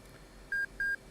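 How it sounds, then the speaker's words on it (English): A cockpit alert in the DCS F/A-18 simulator signals the end of the flight control check with a short series of clear electronic beeps, three evenly spaced tones sounding alone. "it'll alert us when it's done with a series of beeps"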